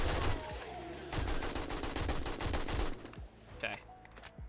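A loud explosion in the video game 7 Days to Die, a dense burst of rapid blasts and crackling that roars for about three seconds before breaking into a few scattered pops as it fades.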